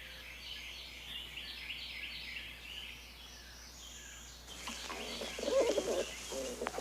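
A pigeon coos softly over steady background hum and faint whistle-like tones, with a louder rustling, fluttering passage near the end; no talking.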